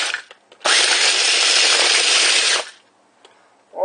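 Food processor on its fine setting grinding dried dehydrated mushrooms into powder: a loud, steady high-pitched whirring burst of about two seconds, starting and stopping abruptly, with brief clunks before and after.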